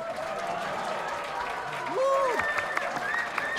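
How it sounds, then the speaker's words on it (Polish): An audience applauds a performing band with two guest singers. Dense, steady clapping runs throughout under a voice and gliding musical tones. "Brawa!"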